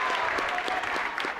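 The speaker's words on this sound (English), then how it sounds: "Let's give them a round of applause." Crowd applause at a varsity boys basketball game, Bethany Christian at Fremont, honoring a back-to-back state qualifier; a brief, steady burst of clapping with faint voices mixed in.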